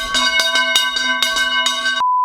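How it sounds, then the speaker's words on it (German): Notification bell chime: a quick series of bright, ringing metallic bell strikes in a rapid rhythm over about two seconds, clear and close, followed by a single sustained pure tone. "nach dem Abonnieren kommt die Glocke aktivieren"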